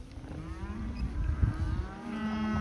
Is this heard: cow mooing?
yes